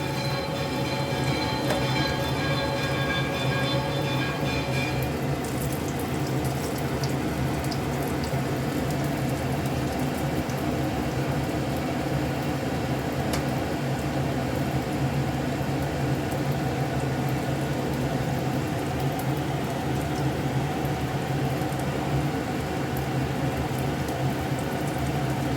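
Breaded fish cutlets, coated in egg and puffed-rice crumbs, sizzle and crackle steadily in hot oil in a pan, a continuous dense frying hiss with no talk over it.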